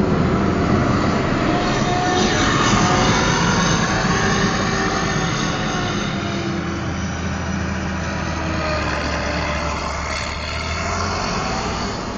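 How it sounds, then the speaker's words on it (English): A tractor drives by outdoors, giving a steady, loud engine rumble with broad noise that holds throughout and eases slightly near the end. "Got another tractor going by."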